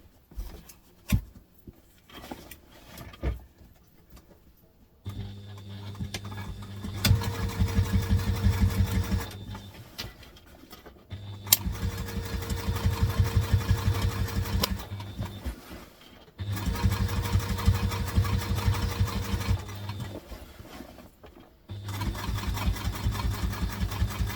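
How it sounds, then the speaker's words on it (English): A sewing machine stitches a drop-in lining in three or four steady, humming runs of several seconds each, separated by brief quiet pauses, close and clear with no talking. "So I'm going to sew it this way."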